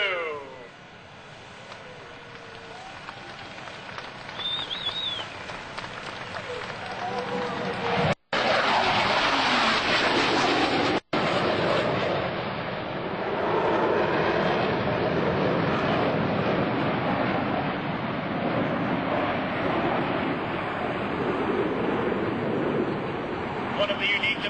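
US Navy Blue Angels jets roar past at the 2002 NAS Oceana airshow, a loud broadband rush that swells and holds steady, with a voice narrating over it.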